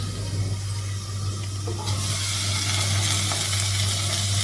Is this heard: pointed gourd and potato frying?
yes